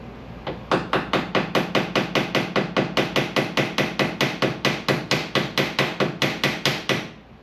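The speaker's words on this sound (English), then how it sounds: "We're only using a little hammer this time." Rapid, evenly spaced taps of a small hammer striking, around thirty sharp blows in quick succession, close and loud.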